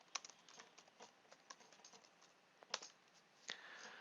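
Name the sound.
typing a search query on a computer keyboard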